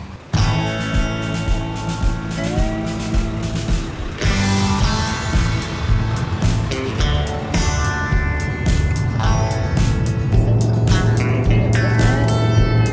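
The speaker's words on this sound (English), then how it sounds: "Just got passed by the Lay's truck" A Lay's truck on the highway roars past from inside a truck hauling combines to South Texas, with a steady loud engine and road drone, a rising rush as it overtakes, and continued rumble afterward.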